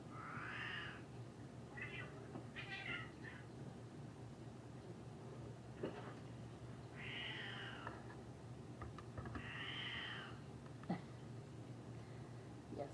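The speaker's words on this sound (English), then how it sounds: "It's easier to get distracted with these cats." Indoor cats meow a few times, soft and fairly close, short high calls spaced several seconds apart over a faint steady room hum.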